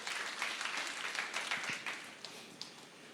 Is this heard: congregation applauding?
yes